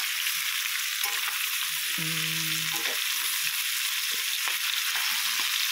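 Potatoes, carrots and chili being stirred into sautéing onion and garlic in a pan give a steady close frying hiss, with a brief tonal scrape or clatter partway through.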